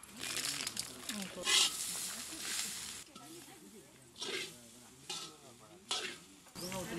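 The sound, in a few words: masala frying in a pan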